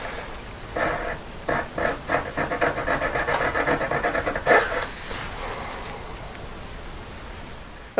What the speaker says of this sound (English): I'll get my thinnest saw blade, just cut across it